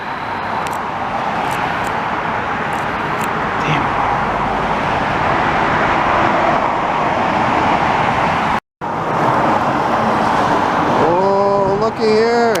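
A CN hi-rail truck rolls along railway tracks in Montreal with a steady loud roar of rumble and road noise, then a high, wavering metallic squeal rises near the end; a brief dropout breaks the sound midway.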